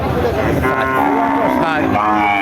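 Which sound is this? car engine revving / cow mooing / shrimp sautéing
cow mooing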